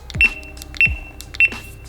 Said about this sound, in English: Listen to the difference in the beep.